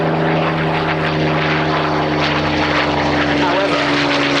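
Supermarine Spitfire Mk.IX warbird with a Merlin engine at an air and car show, its propeller engine a loud, steady droning roar with a constant harmonic hum throughout.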